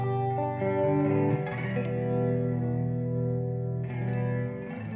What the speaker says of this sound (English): if you back the contour off on the neck pickup, it kind of gets more into that, you know, more traditional single coil kind of sound